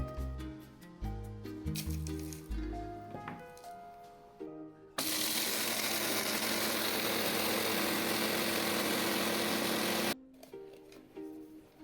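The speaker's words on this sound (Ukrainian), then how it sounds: "буду збивати в блендері" A kitchen blender grinds dried garlic scape seasoning salt in one loud, steady whirring burst of about five seconds that starts and stops abruptly, following a stretch of music.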